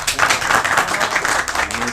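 Audience applause at a mushaira, Urdu poetry gathering, a dense burst of many hands clapping together that continues steadily for a couple of seconds.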